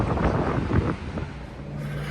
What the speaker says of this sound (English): it is freezing here. It's like high 40s, low 50s, and the wind's blowing like a son of a gun.